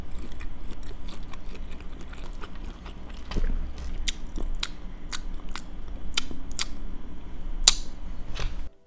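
Close-up mukbang eating of a vegan shrimp boil, with crisp, irregular bites and crunchy chewing snaps over a steady low background hum, and no talking.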